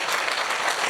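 Audience applause at an environmental award ceremony, a brief wash of dense, even clapping heard alone.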